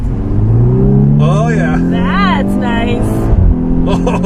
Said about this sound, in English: did you hear that backfire?